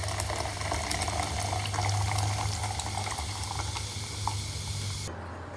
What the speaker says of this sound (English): Pour that into my cup with the ice.